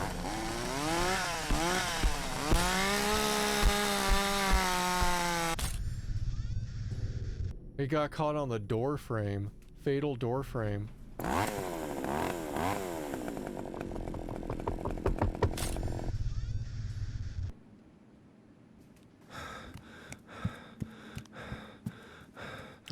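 A ghost's chainsaw in the video game Cursed Digicam revs and whines in rising, falling bursts, loud and close, cutting in and out while a player gasps and talks over it.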